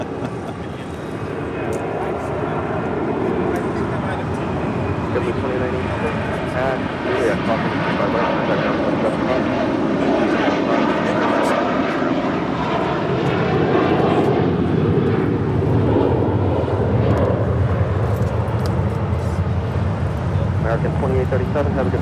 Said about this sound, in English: Taking off there, that was American Airlines Flight 2837, heading to Charlotte in an A321.